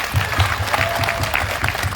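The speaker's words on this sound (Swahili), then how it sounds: "Asanteni sana kwa ile kazi wamefanya, tuwapigie makofi." Brief burst of clapping from an audience at a public gathering in Juja, honouring local leaders; a dense patter of hands, moderately close, with a faint murmur of voices beneath.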